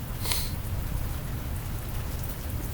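Steady rain hissing and pattering throughout, with no talking, plus a brief brighter burst of drops near the start.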